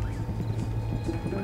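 Steady clip-clopping of horse hooves in Red Dead Redemption 2, an even, close rhythm of hoof strikes over a low rumble, with no talking.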